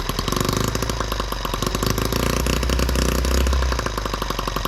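A small M18 engine with a newly adjusted carburetor idles with a loud, steady, rapid putter and a low rumble that continues without a break.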